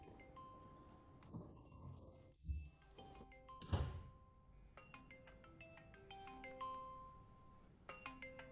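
A telephone rings in a quiet indoor scene, its repeated electronic ringtone tones running through most of the stretch, with a couple of dull thunks, like a door or object being handled, breaking in near the start.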